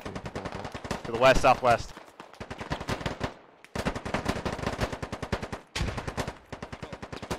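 Rapid bursts of rifle and machine-gun fire in the military shooter Squad, sharp repeated cracks in rhythmic strings with short pauses, loud and close, while a man calls out directions over them.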